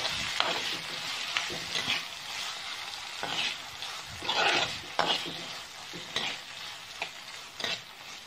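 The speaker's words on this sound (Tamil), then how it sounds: "வெங்காயம் தக்காளி நல்லா குக் ஆகட்டும்." Onions and tomatoes for an egg masala sizzle in a pan while a spoon scrapes and stirs them in uneven, close strokes. There is no talk.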